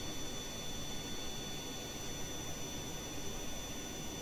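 Steady jet engine drone from an aircraft in the Kerbal Space Program video game, a constant broadband roar at even loudness throughout with no talking.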